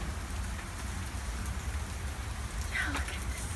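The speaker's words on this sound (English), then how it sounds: "It's raining hail right now." Hail pouring down in a huge hailstorm makes a steady, dense outdoor patter of ice pieces striking surfaces, continuous and fairly close, with a faint voice briefly audible near the end.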